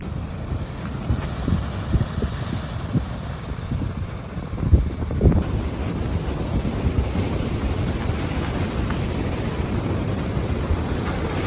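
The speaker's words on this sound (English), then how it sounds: "Just some huge waves." Huge ocean waves break along the coast near Greyhound Rock, a loud, continuous rumbling wash of surf with heavy wind buffeting the microphone, swelling to a stronger crash midway.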